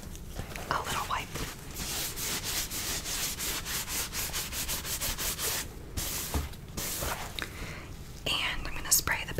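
Repeated rubbing and wiping strokes of a paper towel against a surface, brisk and close, with soft crinkly swishes continuing steadily throughout.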